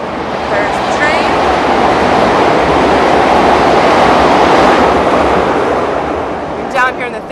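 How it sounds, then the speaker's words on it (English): A train passes nearby in Chicago as a broad, loud roaring rumble that swells and holds for several seconds before easing off toward the end. "There's the train."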